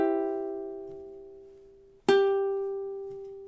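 Ukulele strums from measure 11 of a song: two plucked chords, the first ringing and slowly decaying, the second struck sharply about two seconds later and sustaining, clear and close with no talking.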